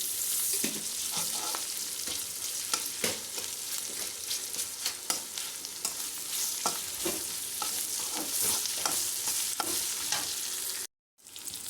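Ginger garlic paste frying in a pan with turmeric, a continuous close sizzle broken by frequent scraping stirs, with a brief dropout near the end.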